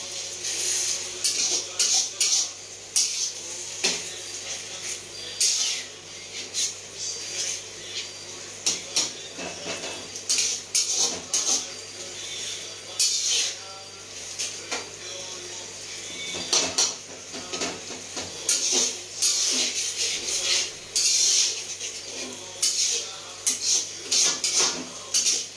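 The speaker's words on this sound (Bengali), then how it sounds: "দিয়ে এটাকে আবার নাড়িয়ে দেবো।" A spoon stirs date chutney in a pan on the stove, with repeated scraping clatters and knocks against the metal, steady and close throughout.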